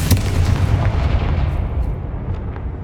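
A Confringo spell explodes in Hogwarts Legacy as one close, heavy boom that bursts at once and then rumbles away over a couple of seconds, with no voices.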